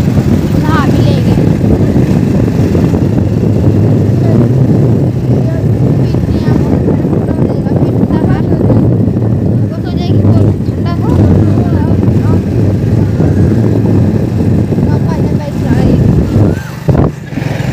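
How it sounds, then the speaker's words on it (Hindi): Motorcycle riding along a village road, its engine a steady close drone under near-constant talk from a man on board, with wind buffeting throughout. "तो भाईजान चला रहा है बाइक।"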